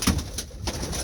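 Breeder pigeons in a loft give soft, low coos, a couple of brief throaty calls close by over a quiet background.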